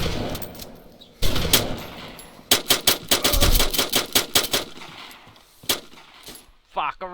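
Rapid gunfire rings out in a shooting video game, with an isolated shot, then a dense burst of evenly spaced loud cracks and a few more later, while players talk and react around them.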